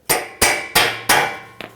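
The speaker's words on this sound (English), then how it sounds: "Take a hammer." A hammer strikes a socket to seat nuts on the front bumper impact absorber of a 1998-2011 Ford Ranger: four loud, evenly spaced metallic blows, then a lighter double tap, close by with no talk.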